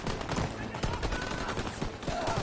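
Rapid bursts of automatic gunfire crackle densely through a Call of Duty Zombies match against German enemies, loud and continuous, with a voice speaking underneath.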